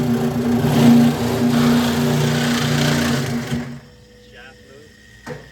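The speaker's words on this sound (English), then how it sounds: "If I fire up the motor" Faulty freezer motor with a loose interior running, a loud buzzing hum with a steady tonal whine that carries for a few seconds and then cuts off, leaving near silence with faint clicks.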